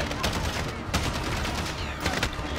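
Rapid gunfire rings out in Call of Duty Modern Warfare, a dense string of close, loud shots stacked over continuous game noise.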